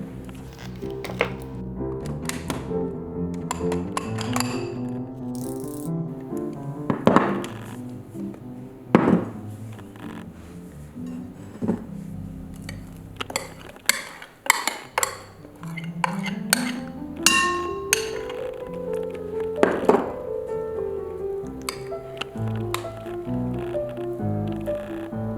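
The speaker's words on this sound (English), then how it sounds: "Start mixing slowly so you won't have spills like this." Matcha cheesecake batter being mixed in a bowl, with repeated clinks and knocks of a utensil against the bowl, some sharp and some soft, and a few sliding scrapes, close and irregular.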